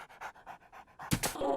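Krypto, Superman's dog, pants in a quick rhythmic string of short breathy huffs, then gives a louder closer burst with a brief vocal whine at the end.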